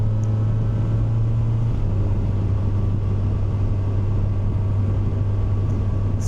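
A 2025 Kawasaki Versys 1100 SE motorcycle engine pulls steadily from low revs in second gear, a close, continuous low drone with wind rush over it and no talk.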